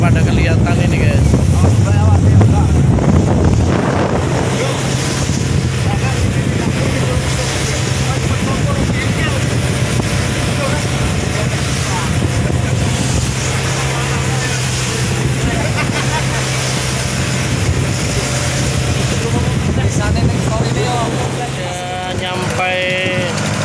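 A traditional fishing boat from Kendal, Indonesia, drones on a steady low engine hum while heading home through waves and strong wind, with constant rushing wind noise and water spray throughout.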